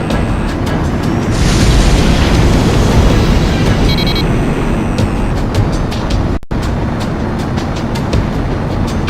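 In the jet combat game Ace Combat X, the shock cannon fires with a loud, deep, rumbling boom that rolls on heavily for several seconds with a thick low roar and no voices.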